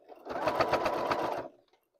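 A sewing machine runs in one quick, close burst of rapid needle stitching for just over a second while sewing a fabric cover for a stand mixer, then stops into silence.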